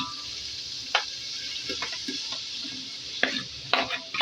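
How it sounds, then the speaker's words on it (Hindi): Yogurt being stirred into frying onions and tomatoes for chickpea biryani: a steady sizzle runs underneath while a spoon scrapes and taps the pan in a few irregular strokes, close by. "इसमें दही है 1 कप मैंने मिक्स कर लिया था, मैं इसमें ऐड कर रही हूँ"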